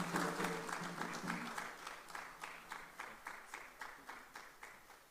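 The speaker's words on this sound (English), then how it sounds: "Another round of applause for him, ladies and gentlemen." Audience applause at a Ghanaian mobile technology for development conference, honoring speaker Dr. Augustine Blay; a steady burst of many hands clapping that gradually thins out, with a voice speaking over the start.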